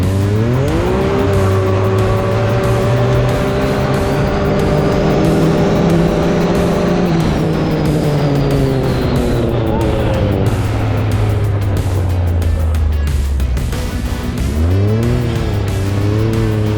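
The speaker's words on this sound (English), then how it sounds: "Got quads out here racing." Quad ATVs racing on sand dunes, a loud close engine revving up through rising pitch, dropping, then roaring again, sustained and dominant, with some voices faintly underneath.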